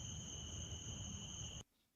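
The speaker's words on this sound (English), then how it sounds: "There's crickets." Crickets chirp in a steady, continuous high trill over a low rumble on a winter night in New Jersey, cutting off abruptly near the end.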